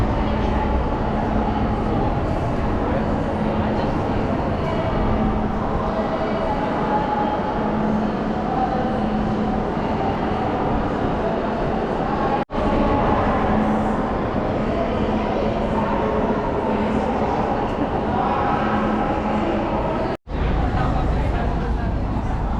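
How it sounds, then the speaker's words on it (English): Continuous rumbling ambience at São Bento train station in Porto, Portugal, with a steady mechanical hum, distant indistinct crowd murmur, and two brief sharp clunks partway through. "Train station of St. Bento."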